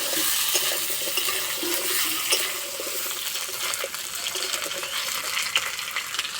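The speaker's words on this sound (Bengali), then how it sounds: "আলু আর পিঠে হালকা লাল করে ভেজে নেব।" Potatoes frying in oil in a pan, a continuous close hiss and crackle with occasional soft pops and light stirring, no voices present.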